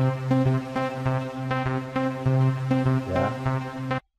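Nexus synth plugin preset "After Midnight 1" playing a rhythmic chord pattern with steady pulsing hits and rich harmonic tones, loud and close, alone without talk, cutting off abruptly at the end.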